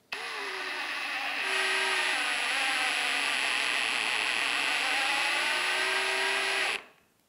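A drill drives a 5 x 70 screw into a wall anchor in one loud, continuous whirring run of about six and a half seconds, with the pitch dipping slightly as the screw bites, then a quick stop.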